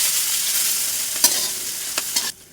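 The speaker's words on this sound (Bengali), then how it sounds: "একটু লঙ্কা দিলাম, পেঁয়াজ কুচি দিয়ে দিলাম" Steady hiss of chopped onion and chilli frying in oil with cumin and bay leaf in a pan, with a few brief clinks of stirring, close up, ending abruptly.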